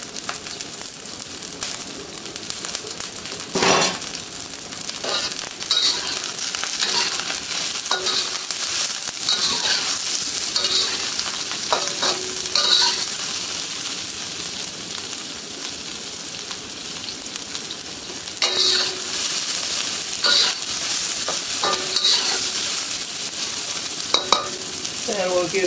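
Garlic, chilies, celery and onions stir-fried in a pan, a steady close sizzle broken by repeated scraping and clinking stirs throughout.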